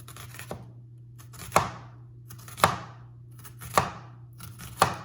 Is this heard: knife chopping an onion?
yes